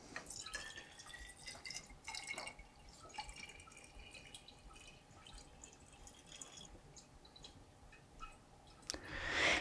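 Oil-water mixture dripping and trickling into a closed glass separation funnel, soft irregular liquid drips and light clicks close by, with a louder splash near the end.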